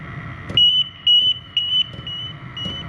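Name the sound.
gas detector alarm beeping for low oxygen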